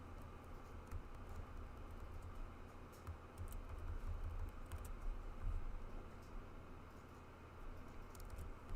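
Typing on a computer keyboard during a class session, a soft continuous patter of faint key clicks over a low steady room hum, with no talk.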